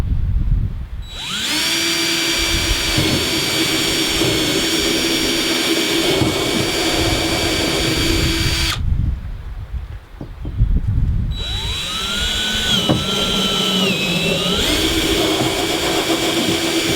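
Power drill boring holes through a wooden kneeling thwart for a canoe, a loud steady whining motor run lasting several seconds, a brief pause, then a second sustained drilling run with pitch dips as the bit bites.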